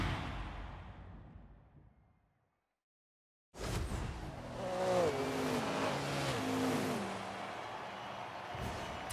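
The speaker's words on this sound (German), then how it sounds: "der 5-Zylinder dürfte meiner Meinung nach noch ein bisschen brachialer klingen" An Audi RS3 sedan's five-cylinder engine in Forza Horizon 5 drones loudly, drops out to a brief silence, then returns revving hard through rising and falling gear changes.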